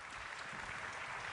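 Applause at an international leaders' forum in Doha, a steady, fairly faint patter of many hands clapping throughout.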